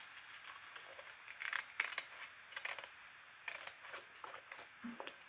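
Scissors snip around paper wings, producing a series of brief, close crisp cuts in irregular bursts with short pauses between them.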